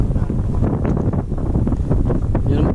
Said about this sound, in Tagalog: Kaya lang baka itulak ka ng hangin.